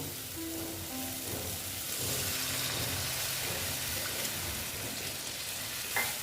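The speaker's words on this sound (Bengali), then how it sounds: "এখন আমি এখানে জল দিয়ে দেবো" Water hits a hot pan of frying katla fish masala, raising a loud, continuous sizzle and bubbling hiss that fills the few seconds, with a small clink near the end.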